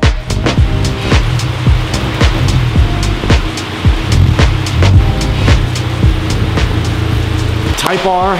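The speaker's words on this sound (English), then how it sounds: "I don't know what's going on here in SoCal, but it is absolutely pouring." Heavy rain pours outside a car shop in Southern California, a dense, continuous hiss with scattered sharper spatters, close and loud throughout, with a brief voice near the end.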